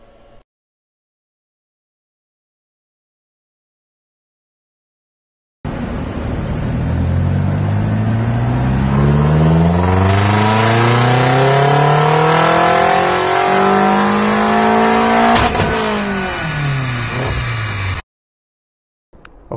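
Remapped BMW X5 M with the 4.4 biturbo engine (575 hp, stage 2 map, no rev cut) revs hard and loud, rising and falling through repeated sweeps with sharp exhaust bangs and pops, close up with no talking.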